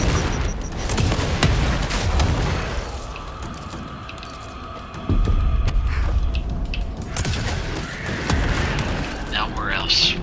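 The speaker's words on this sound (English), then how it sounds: "I'm just shooting missiles" An infinite-ammo rocket launcher in the video game Control fires missiles again and again, giving loud booming blasts and bursts amid dense noisy action, with a sharp impact partway through.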